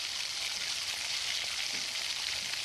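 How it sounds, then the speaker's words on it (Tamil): Onion and tomato sauté with turmeric powder in a pan for a simple chicken gravy, giving a steady, dense sizzle and crackle that runs unbroken throughout with no voices. "மஞ்சள் பொடி போட்டு கொஞ்சம் நல்லா வதக்கிக்கலாம் இன்னும் கொஞ்சம் கூட"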